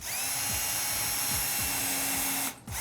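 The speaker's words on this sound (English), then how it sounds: "take my drill with the pilot bit" A power drill fitted with a pilot bit bores a pilot hole into pallet wood, giving a steady, close, high whine for about two and a half seconds before it briefly cuts out and starts again.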